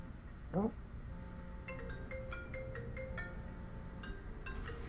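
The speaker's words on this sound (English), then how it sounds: "That was actually my computer ringing." A computer rings with an incoming call. A faint, repeating electronic chime pattern sounds over a steady background hum, with a short vocal sound just before it.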